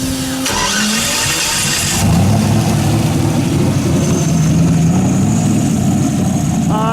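An LS2 V8 swapped into a Porsche Boxster cranks, catches and settles into a loud, steady rumbling idle, heard up close in the cold outdoors.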